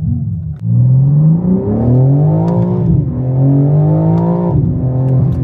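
A BMW M4 with carbon engine parts gives off throaty induction noise, engine revs rising and falling in smooth sweeps, loud and close from inside the car with no talk.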